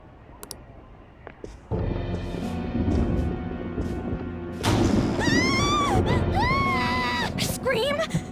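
A scream rings out in the video game Persona 5 Royal over a dense, loud game soundtrack of rumbling and strained tones, with wailing, warbling voice-like cries rising in the second half.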